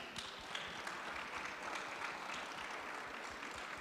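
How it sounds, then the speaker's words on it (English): An audience claps for a panel of speakers at the close of a talk, a soft, fairly distant patter of applause that carries on evenly throughout. "can we please have a round of applause for all our speakers here?"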